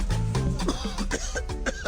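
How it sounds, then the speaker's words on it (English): A person coughs in a radio advert, a short run of harsh, close coughs with no talk over them. "Hey, conductor, this cough is serious."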